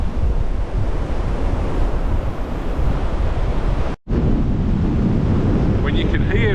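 Strong wind buffets the microphone outdoors on a hillside walk in Northumberland, a steady loud roar with gusts, broken by a brief dropout near the end.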